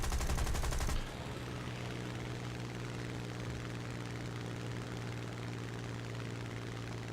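A World War II fighter plane's piston engine drones steadily in War Thunder, a loud continuous hum after a brief burst of gunfire at the start, with no voices.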